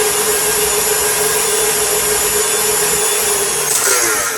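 An electric mixer whirs steadily through banana nut bread batter made with sugar, vanilla, nutmeg and cinnamon, giving a constant high motor whine that stays loud and unbroken, with a slight change near the end.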